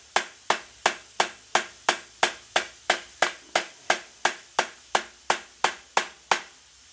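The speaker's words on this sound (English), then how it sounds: "I just hit it with a hammer." A hammer strikes a steel C-clamp in a steady run of about seventeen sharp, evenly spaced metallic blows, each loud, close and quickly decaying, with no voices.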